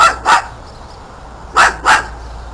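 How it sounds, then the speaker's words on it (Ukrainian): A dog barks loudly and close in two pairs of sharp, quick barks separated by a short pause, with no talking in between. "Що ти гавкаєш?"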